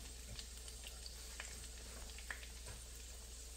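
Bean sprout, shrimp and green onion omelette frying in a pan, a faint steady sizzle with soft scattered crackles and a low hum underneath, no voices.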